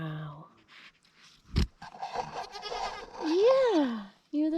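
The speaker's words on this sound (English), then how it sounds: "You're the first little goat born here." A newborn baby goat on a farm gives a clear wavering bleat near the end, close and fairly loud, after a soft cry earlier, with people talking quietly around it.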